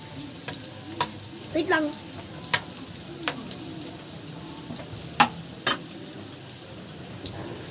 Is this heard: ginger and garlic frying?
yes